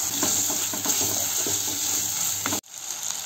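Chopped tomato goes into a pan of fried onion and ginger-garlic paste for a chicken curry, giving a steady loud sizzle with scraping stirs throughout, then cutting off abruptly near the end.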